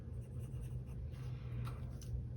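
A pen scratching out meal entries in a Hobonichi Cousin planner, soft close scribbling strokes over a low background hum.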